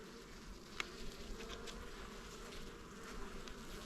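A steady, soft buzzing of many honey bees at hives fills the air, a continuous insect drone with no voices.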